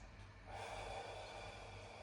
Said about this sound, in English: followed by a longer exhale